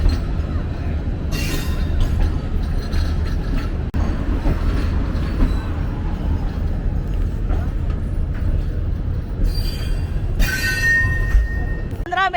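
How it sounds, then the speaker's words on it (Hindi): The Shah Latif Express rolls out of Mirpur Khas railway station with a steady, loud rumble of carriages, intermittent wheel squeals and metallic screeches, heard from on board. "हमारी ट्रेन रवाना हो रही है मीरपुर ख़ास स्टेशन से"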